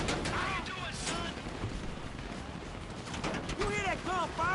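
Rapid bursts of gunfire ring out in a GTA 5 shootout, several volleys of sharp cracks stacking up, with shouted voices and tonal game sounds layered over the shooting.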